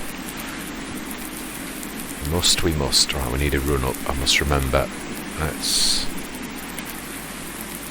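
Steady rain hisses throughout a Farming Simulator 19 farm scene, a constant wash of falling drops under someone talking in the middle stretch.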